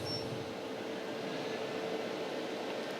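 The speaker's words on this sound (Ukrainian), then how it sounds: "Шумлять вентилятори, тому що е, струм великий, споживання велике, це треба все охолоджувати." Steady whirring hum of cooling fans running nearby, an even, unbroken drone with a faint tonal whine.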